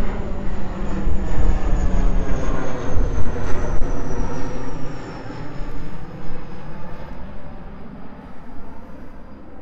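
Fixed-wing airplane passing overhead, a loud, sustained engine roar with a broad rumble that holds steady for the whole stretch, no speech present.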